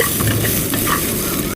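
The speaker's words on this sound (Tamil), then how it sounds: "பயிர் இப்படி ஒரு கிண்டு அப்படி ஒரு கிண்டு, அவ்வளோதான்." Tempered legumes stirred and sizzling in a hot pan, a steady frying hiss with spoon scrapes throughout, close and alone, ending abruptly.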